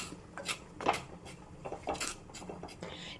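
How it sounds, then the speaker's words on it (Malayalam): Coriander powder being stirred in a pan on low flame, with a few light metallic scrapes and clinks of a spoon against the pan in quick, irregular bursts, no talking. "ഇനി ഇത് ഒന്നിളക്കി ഇതിൻ്റെ പച്ചമണമൊക്കെ ഒന്ന് പോയി കിട്ടണം."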